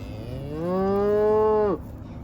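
Cattle on a farm moo as they gather around a truck: one long, loud, close bellow that rises, holds steady and then cuts off sharply, over a low outdoor background.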